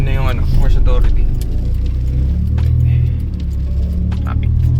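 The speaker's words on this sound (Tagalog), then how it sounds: "Traffic." Road traffic with cars passing, a steady low engine rumble and passing whooshes continuing throughout, with people talking over it near the start.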